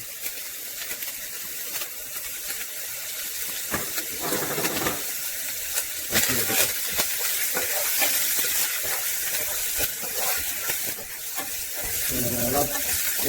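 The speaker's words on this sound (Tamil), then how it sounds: "ஜிஞ்சரையும் கார்லிக் அண்ட் கருவேப்பிலை போட்டு நம்ம வதக்கிட்டு இருக்கோம்." Ginger, garlic and curry leaves sauté in a hot pan for a chilli beef dish, a steady sizzle and hiss broken by occasional stirring scrapes.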